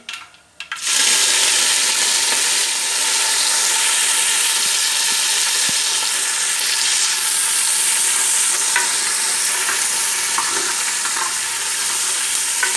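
Mustard seeds and curry leaves sizzle in hot oil for a garlic fish masala. A loud, continuous hiss and crackle starts abruptly after a second, with occasional stirring sounds.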